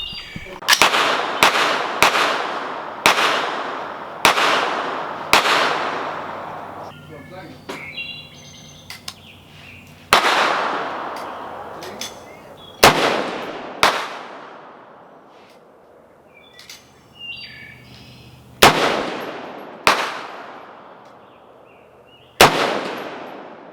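A Diamondback 6.5 Grendel rifle fires 100 grain FMJ rounds outdoors, about fourteen loud, sharp cracks with ringing decay, spaced irregularly over more than twenty seconds, with faint birdsong between shots.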